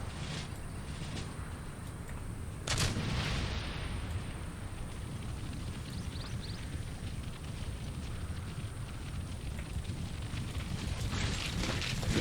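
Artillery guns firing in the video game Empire: Total War, booming blasts over a constant rumbling battle din, with a loud report near the start and another near the end, no talking.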